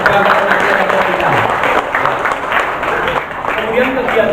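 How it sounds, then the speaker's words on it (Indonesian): A room of people at a women's football club annual meeting claps continuously, a close, dense patter of hands with voices audible underneath. "Tepuk tangan untuk semuanya buat kebanggaan kita."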